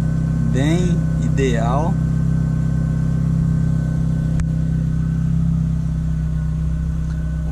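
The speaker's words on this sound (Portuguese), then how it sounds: "a marcha lenta do carro. Como ficou lisinho. 920 RPM" A Ford Fiesta 1.0 turbo engine idles smoothly and steadily at about 920 RPM, a constant low hum throughout, with someone speaking briefly near the start.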